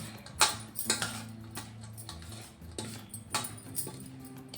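A spoon stirs green chili pickle in a bowl, giving scattered light clinks and scraping taps at an irregular pace, close and fairly quiet.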